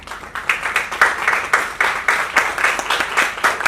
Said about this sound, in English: give a big round of applause to the team